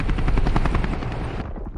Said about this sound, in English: And where's our other chopper?